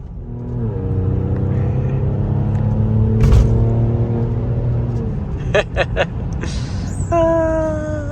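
A Mercedes-AMG GLE43 SUV with a 3-liter twin-turbo V6 pulls away and accelerates, its engine note climbing steadily through the gears in a loud close rumble, ending with a sharper rising whine.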